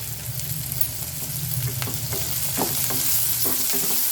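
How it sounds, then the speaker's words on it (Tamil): Onions sautéing in a pan for radish masala. A continuous close sizzle runs throughout, with repeated scraping stirs and clinks that grow busier toward the end. "சீக்கிரம் அந்த வெங்காயம் வதங்கிடும்"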